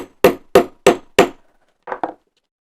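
Four sharp, loud hammer whacks in quick succession drive out a rivet, followed after a short gap by two lighter, softer taps.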